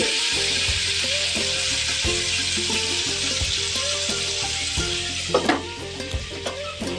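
Chopped tomatoes for a radish and fish curry cook in a pan, giving a loud, steady sizzle with bubbling, and a brief clatter of stirring near the end.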